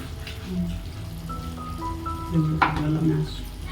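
Food frying in a pan, dusted with coriander and cumin powder, gives a steady close sizzle throughout, with faint voices in the background.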